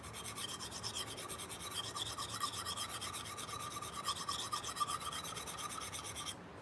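A knife blade is reprofiled on a sharpening stone, the angle changed to grind metal off the front, giving a steady, continuous rasping scrape close by and fairly loud, running without a break for several seconds before easing off at the end.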